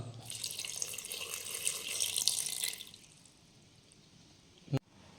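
Water pours in a steady splashing stream for a few seconds as a quarter cup is added to mutton chops in a pressure cooker, then stops; quiet follows, broken by a single sharp clunk near the end.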